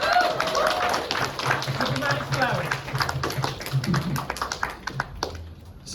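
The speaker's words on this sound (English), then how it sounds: "So can we give a round of applause to Abdullah?" Close, lively audience applause for a poet at a spoken word poetry night, brisk hand claps mixed with crowd murmur that tapers off near the end.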